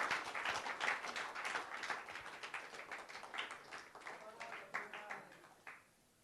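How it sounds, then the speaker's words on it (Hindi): Quiet audience applause at a Hindi film event, steady scattered clapping that carries on for about six seconds, distant and fading near the end. "जोरदार तालियां बजते रहनी चाहिए"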